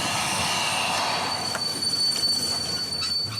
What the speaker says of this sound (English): Once again, the train begins to slow down.